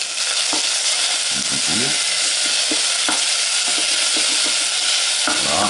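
Bacon lardons frying in a pan for homemade ravioli sauce, a loud close steady sizzle and crackle with scattered pops and spatula scrapes throughout.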